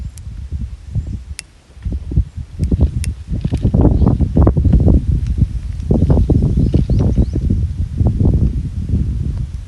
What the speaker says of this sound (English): Do let me know how that wind noise is affecting this.